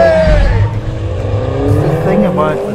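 Tyres squeal and the engine revs on a MINI John Cooper Works Cabrio rally car during a handbrake turn on the Monte Carlo rally route, loud and close, with voices talking over it.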